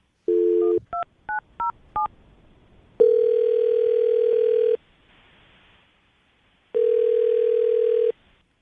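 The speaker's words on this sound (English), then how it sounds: "I'm going to dial the number." A telephone keypad dials a quick run of touch-tone beeps, then a ringback tone sounds twice in long steady buzzes separated by silence, clear and close with no talking.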